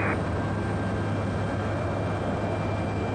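A Boeing 767 aborting its takeoff on the runway, a loud, steady broadband jet roar with a low hum throughout and no voices.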